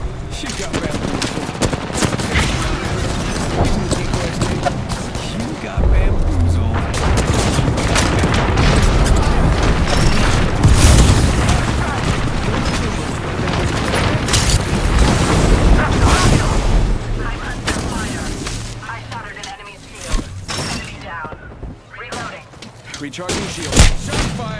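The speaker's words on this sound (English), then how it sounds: "Shot fired and they're hitting me." Gunfire in Apex Legends roars almost without a break, with rapid bursts and heavy booms layered over a loud, dense game mix, and a voice occasionally talks over it.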